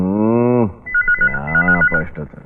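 A telephone rings during a tense Kannada film scene: a loud, voice-like cry is followed by a pulsing electronic ringtone that repeats several times.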